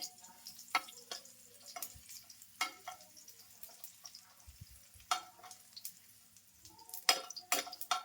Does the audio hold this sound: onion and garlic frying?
yes